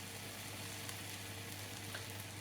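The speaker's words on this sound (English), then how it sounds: "while my berries are still just frying a little bit" Berries fry gently in a pan, a faint, continuous soft sizzle with a low steady hum underneath and no talking.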